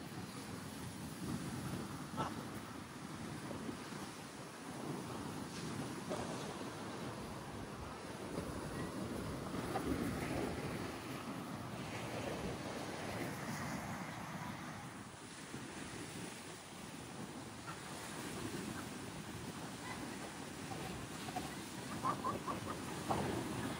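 Ocean surf rolls steadily onto White Beach on Boracay Island, a continuous wash of waves mixed with gusting wind noise on the microphone, with no talking.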